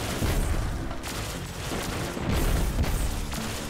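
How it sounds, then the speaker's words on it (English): Grenades from a Destiny 2 weapon bursting in midair, a dense, continuous barrage of overlapping booms and crackling blasts with loud surges, no speech. "These grenades just go everywhere."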